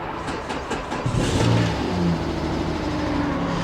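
A minivan engine cranking and catching as it is started, jumped from a weak booster pack, then settling into a steady idle, loud and close with no talking.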